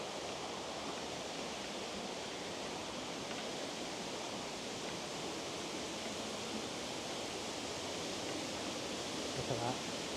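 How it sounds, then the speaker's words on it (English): A waterfall at Dinorwig slate quarry, a constant broadband rush of falling water heard from a little way off, steady and even the whole time, with a faint sound of handling near the end. "So apparently there's really quite a few waterfalls here by the looks of it."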